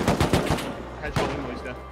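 Gunfire in the survival video game Rust comes as a rapid burst of close automatic shots, followed after a short pause by a few more cracks, loud and sharp, with a voice talking over it.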